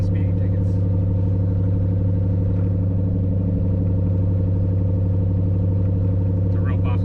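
A Chevrolet Colorado pickup's engine drones steadily and close while the truck is driven hard, a constant low rumble with a faint clatter on top and no change in pitch.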